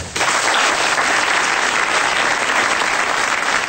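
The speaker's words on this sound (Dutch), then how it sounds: "Mag ik een applaus voor Rob Gongrijp." An audience applauds a guest on a Dutch television program, a dense, steady burst of clapping that fills the whole stretch at close range.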